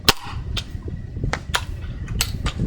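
Benjamin Trail NP air pistol fired during a chronograph test: a sharp, close crack at the start, followed by a few smaller clicks and taps over a steady mechanical hum.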